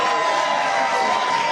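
Rally crowd cheering and shouting, a loud, dense, continuous roar of many voices with a faint sustained tone running through it.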